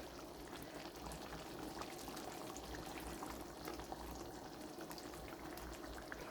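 Water poured into a chicken curry simmering in a pot on a stove, giving a steady, faint bubbling and pouring hiss that continues evenly throughout, with no voices.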